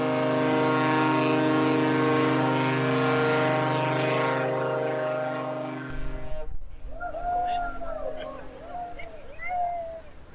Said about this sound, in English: the engines rumbled to life and we were away